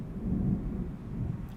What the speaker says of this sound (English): we just have a storm that's still approaching here.